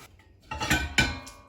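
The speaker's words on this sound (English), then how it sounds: "put some water in your pans" Water splashes into metal pans in a home kitchen, a short burst of clattering pouring with a second splash, close and moderately loud over faint pan knocks.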